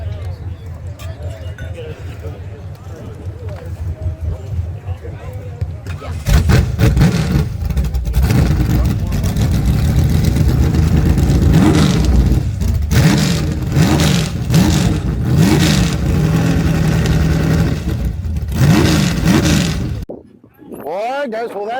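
A car at a memorial car and motorcycle show fires up after a stretch of talk and idle rumble, then roars loudly through repeated revs and blips before cutting off abruptly, with voices chatting around it.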